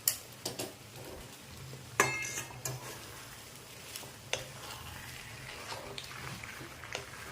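Veg hakka noodles tossed with tongs or a spoon, utensils clinking and scraping against the pan with a few sharp taps over a low steady background hum, fairly close.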